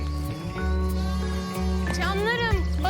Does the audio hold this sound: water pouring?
no